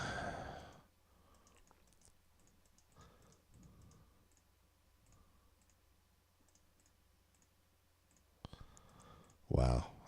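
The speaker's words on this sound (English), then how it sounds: "I'm just not clicking properly today." Computer mouse clicks while building in a Minecraft-style game, a few soft, close clicks and keyboard taps spread through quiet room tone, with a sigh or breath near the start and a louder burst near the end.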